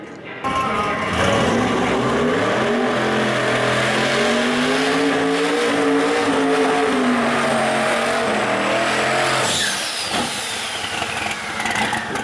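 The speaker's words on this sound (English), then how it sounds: "Bill there with a beautiful smoky burnout, burning down the way." A drag race car lays down a smoky burnout at a Pro Street launch, its loud sustained engine roar rising and falling with tire squeal for about ten seconds before cutting off, with a faint announcer voice underneath.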